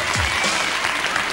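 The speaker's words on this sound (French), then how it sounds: "On l'applaudit, Alain Chamfort." A studio audience on a French TV variety show applauds, a short steady burst of clapping that fills the moment without a break.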